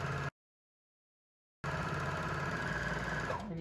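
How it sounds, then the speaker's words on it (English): A serger stitching through both layers of fabric around the corners of an edge, running in a steady close whir, stopping briefly and then starting again at an even hum. "you're sewing through both sides, you're catching it all, and then just round, going around those corners to make a finished edge"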